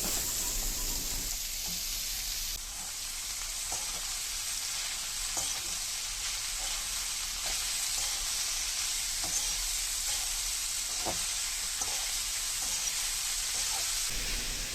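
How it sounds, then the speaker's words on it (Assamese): Ginger, garlic and onion fry steadily in a hot pan, a dense continuous sizzle broken by a few soft scraping stirs, close and alone without talk. "এইখিনি এতিয়া ভালদৰে ভাজি ল'ম।"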